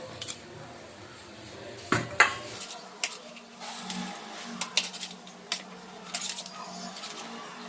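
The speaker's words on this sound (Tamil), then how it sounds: "இப்போ வந்துட்டு நான் எலுமிச்சங்காய பழத்தை வந்து நல்லா கட் பண்ணிட்டேன்" Knife cutting through lemons on a kitchen board: a series of short, close clicks and knocks spaced irregularly, with faint kitchen clatter and no talking.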